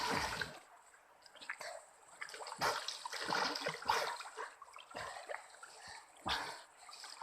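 Splashing and churning water from a person diving and swimming through a fast-flowing river current, with repeated bursts of splashes over a steady rushing stream.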